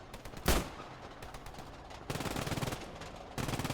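Video game gunfire during the Operation Winter Sturm event: one sharp near shot followed by bursts of rapid machine-gun fire in two long, steady strings, with no talk over it.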